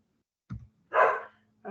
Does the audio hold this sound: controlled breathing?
no